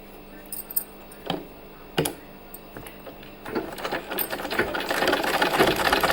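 Sewing machine stitching warm fabric for a child's cap: a few short clicks and bursts at first, then a sustained rapid mechanical whir building up close by.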